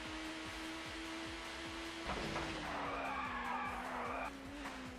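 Race car in the ToCA Touring Car game at Silverstone International, the engine droning steadily before the brakes lock and the tyres break into a loud skid lasting a couple of seconds, then the engine note returns.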